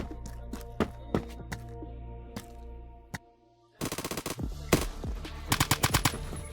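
G3A3 rifle gunfire in Phantom Forces: scattered single loud shots at first, then a short lull before a quick run of rapid close bursts.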